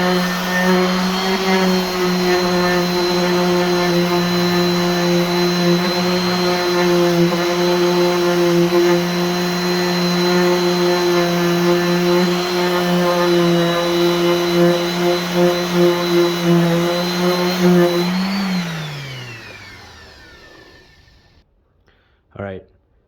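A power sander works white oak boards to strip off glue, a loud, steady tonal whine with a rough grinding edge that holds for about eighteen seconds, then spins down and fades, followed by a brief knock.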